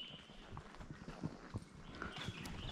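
Slow, uneven hoofbeats from a horse walking carefully among twigs on a countryside trail ride, fairly quiet, with no talk and light ambient hiss.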